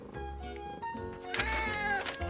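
A cartoon cat from the French Caillou series meows several times in quick succession, the calls close, clear and rising in pitch toward the end, with no speech.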